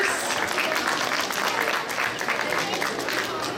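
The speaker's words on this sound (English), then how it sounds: "Can we have another round of applause for all our performers?" An audience applauds performers at a school event, with dense, continuous clapping that stays loud and even throughout, a voice faintly mixed in.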